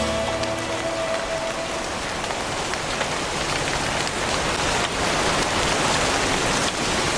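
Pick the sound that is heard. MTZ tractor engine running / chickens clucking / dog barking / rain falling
rain falling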